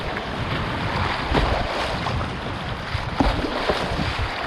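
ZET Cross kayak gliding over small waves on open water, with steady rushing water and splashing, a few louder slaps of the hull, and wind buffeting the microphone throughout.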